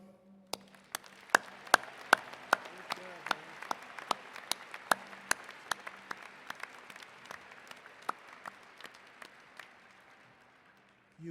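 Scattered, sparse clapping from the audience at a commencement ceremony, sharp individual claps arriving steadily before thinning out and fading toward the end.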